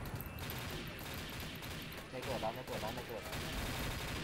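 Gunfire in the shooter game XSHOT, dense rapid bursts of shots forming a continuous busy clatter, with someone talking over it.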